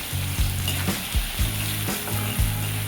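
Salted onions sauté in a pan with a steady sizzle, broken by the rhythmic scrape of a spatula stirring about every half second, close and clear with no speech.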